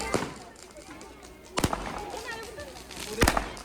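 Three sharp Diwali firecracker bangs go off at intervals in Italy, each a loud crack with a brief tail, while background chatter continues underneath.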